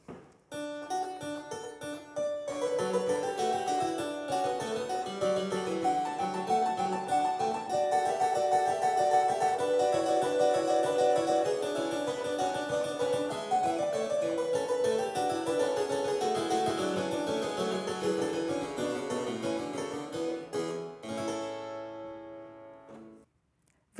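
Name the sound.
350-year-old Italian harpsichord being played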